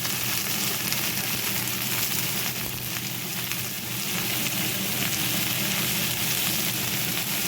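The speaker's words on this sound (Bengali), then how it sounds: "পেঁয়াজটা ভাজা ভাজা হয়ে যাওয়ার পরে এবার আমি দিয়ে নেবো এর ওপরে যে সবজিগুলো কেটে রেখেছিলাম" Chopped vegetables fry in a pan over browned onions for Bengali-style fried rice, producing a loud, steady, close sizzle and crackle with no pauses.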